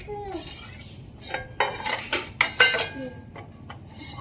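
Plates and dishes clatter and clink close by as a family serves food on a home terrace, a busy run of sharp knocks and scrapes with brief voices in between.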